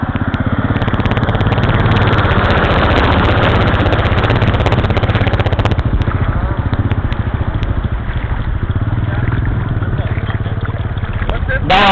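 A KTM 690 motorcycle engine runs at a loud, close, steady idle with a rough, pulsing rumble that continues throughout.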